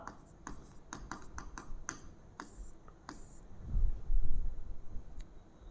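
Chalk or pen writes on a board in a physics class, tapping and scratching out a quick series of sharp strokes, followed by a lower rumbling shuffle of movement near the board.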